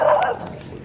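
A dog gives a single short bark at the start, close and fairly loud, then the sound trails off into quieter background.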